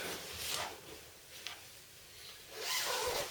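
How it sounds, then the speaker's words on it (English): A sleeping bag's long side zip being pulled up, giving two close, rasping zipper strokes separated by a soft pause. "the sleeping bag's going to have is a nice long zip that goes down the side, zips all the way up"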